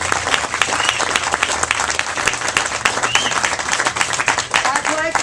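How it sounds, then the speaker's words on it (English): Audience applause at a press conference on the USDOT Crenshaw Corridor, a steady burst of many hands clapping that stays loud throughout, with voices and faint speech rising near the end. "Give him a big round of applause."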